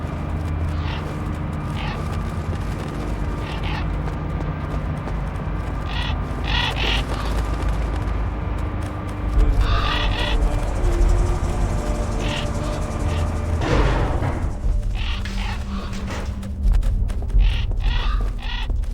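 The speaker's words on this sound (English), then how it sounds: "You birds better not shit on me." Crows caw repeatedly in a Metal Gear Solid: The Twin Snakes game scene, harsh calls scattered over a steady low ambient rumble.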